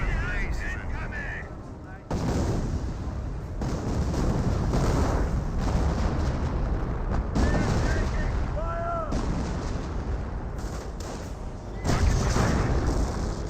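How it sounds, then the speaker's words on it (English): A creeping artillery barrage in the World War II strategy game Company of Heroes: loud, repeated shell blasts and rumbling booms roll on continuously, mixed with gunfire, while someone comments over the din. "This may be a creeping barrage. Yep, creeping barrage."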